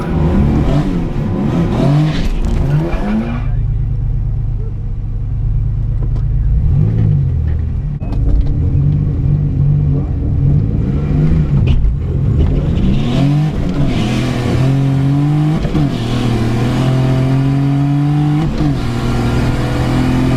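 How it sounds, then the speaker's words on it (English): A Chevrolet Cavalier Z24 with a turbocharged 3400 engine makes a drag strip run at the track. Its engine roars loud and close, climbing steadily through the revs in a sustained, rising drone with no talking. "Engine sounds like it's still alive."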